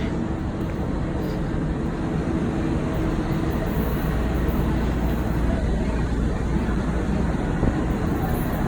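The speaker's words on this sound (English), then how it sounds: "Here comes a train, but I'm not going in a direction." A train rumbles past nearby in Charlotte, North Carolina, with a loud, continuous roar and deep low rattle that stays steady the whole time.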